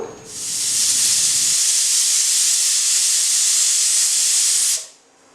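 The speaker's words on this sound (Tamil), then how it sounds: "ஒரு அஞ்சு விசில் விட்டுக்கணும்" A loud, continuous burst of hissing steam from a pressure cooker whistle, cooking palmyra sprouts, vents for several seconds, then stops abruptly.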